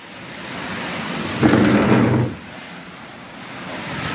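A burst of rushing, splashing water pours for about a second, sounding much like a heavy rain shower, over steady background noise.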